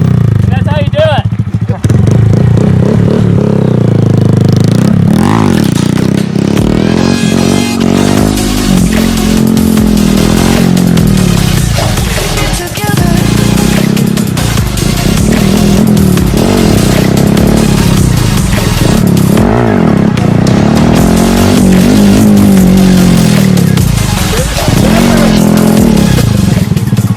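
A stunt motorcycle revs hard and repeatedly while pulling wheelies, its engine rising and falling loud and close throughout, with someone talking over it.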